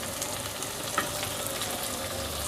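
Okra with coriander frying in a pan, gently mixed with a spoon: a soft, continuous sizzle at moderate level with one faint clink of the spoon midway, no voices.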